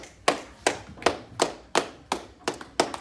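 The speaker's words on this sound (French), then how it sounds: "vous pouvez l'applaudir" A few people clap slowly for a CrossFit coach during a home workout session, about eight separate sharp claps in an even rhythm, close and distinct with quiet gaps between.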